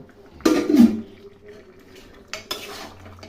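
Boiled mutton pieces dropped into spiced masala in a cooking pan, giving a short loud clatter and scrape of metal utensils, then a quieter stir and a second brief burst of clinking.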